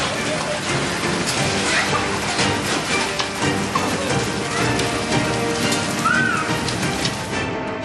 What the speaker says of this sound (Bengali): মেঘলা আকাশ, এরই মাঝে বীরভূমের রামপুরহাটে শিলাবৃষ্টি।